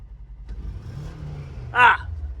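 A Ford Expedition engine idles with a low rumble, then swells into a rev before a sharp, brief burst of noise near the end, with a voice briefly audible.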